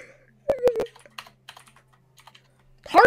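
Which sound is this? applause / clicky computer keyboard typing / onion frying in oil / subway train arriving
clicky computer keyboard typing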